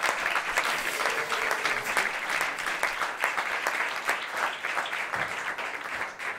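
Steady applause from an audience at a live show at FolkClub in Torino greets a singer, dense clapping with a few sharper claps standing out, sustained for several seconds.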